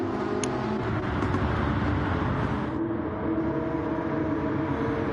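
Race car engines drone from cars leaving pit lane in a stock car racing video game at Daytona, a continuous dense rumble held steady throughout at moderate loudness.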